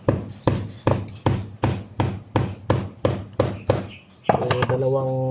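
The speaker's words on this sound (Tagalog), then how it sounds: "Lagay tayo ng pako dyan." A concrete nail is hammered into a wall while fitting an extra faucet to an existing pipe, landing about ten sharp, evenly spaced blows close by before a voice speaks.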